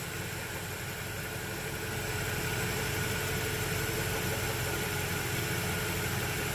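Honda Prelude engine idling steadily after a new engine coolant sensor was fitted, a continuous low rumble with broadband hum, close and constant throughout with no voices.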